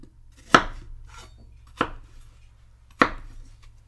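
A knife chops apples into small cubes on a cutting board, three sharp, separate thuds spaced about a second apart with a low steady hum underneath.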